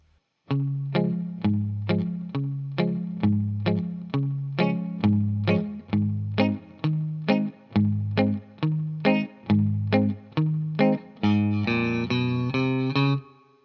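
Guitar plays a verse in C, a boom-chick alternating bass-and-chord strum with an effected, chorus-tinged tone, steady and close, ending on a fuller ringing chord.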